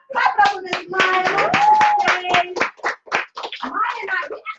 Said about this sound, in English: Clap it up for Miss Maya.